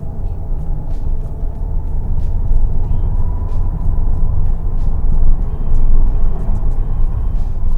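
A Hyundai Santa Fe, a large, heavy SUV, accelerates with a steady, loud, close engine and road rumble that swells slightly toward the end, with no talk over it.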